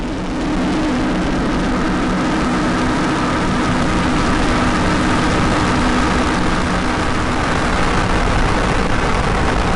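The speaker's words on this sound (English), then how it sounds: "Liftoff of the Falcon 9." A SpaceX Falcon 9 rocket lifts off, a continuous loud, broadband roar that holds steady for about ten seconds.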